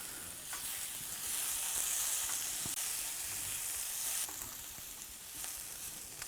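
Kale sizzles in a hot pan with a bright, steady hiss while a spatula shifts it around, occasional soft scrapes and pops rising over the frying.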